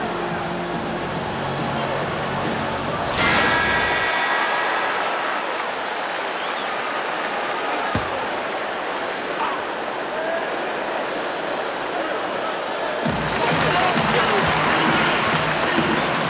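Basketball arena crowd in a video game career mode, a hissing wash of applause and cheering that rises and falls, with commentary voices talking over it.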